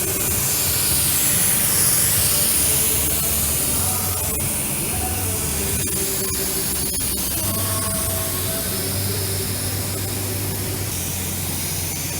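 Spray gun laying a first coat of high-build primer on a car in a shop, a loud, continuous hissing spray held steadily close throughout with faint background clatter.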